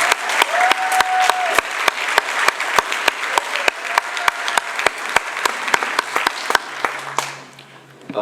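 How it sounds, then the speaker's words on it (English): A council chamber applauds a newly inaugurated councillor in Mossel Bay, a scattered group clapping with sharp, distinct claps that thin out toward the end. "Let's give her another round of applause"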